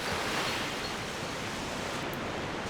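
Steady rushing water pours in a broad, continuous hiss in Twilight Princess HD, a close, even wash of flowing current with no voices over it.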